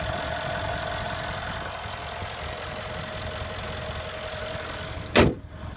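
A 2015 Mercedes-Benz E63 AMG S sedan idles steadily up close, then its engine shuts off with a brief loud thump near the end, leaving near silence.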